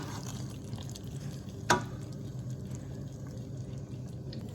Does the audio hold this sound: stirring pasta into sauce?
yes